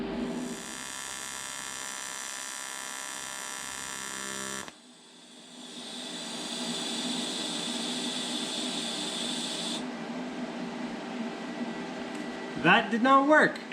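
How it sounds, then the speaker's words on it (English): A TIG welding arc running with a new tungsten and wandering erratically, heard as a steady electric buzz that suddenly drops and then shifts tone before crackling out. A voice speaks briefly near the end. "The arc just started jumping around like my tungsten was contaminated all of a sudden."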